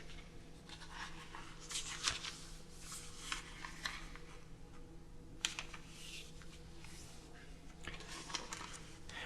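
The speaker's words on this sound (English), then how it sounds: "We're going to begin by folding in half diagonally, so that's corner to corner, and we're going to do it both ways" A square sheet of origami paper is folded diagonally and unfolded, giving close, dry crinkles and soft rustling bursts over a quiet background with no talking.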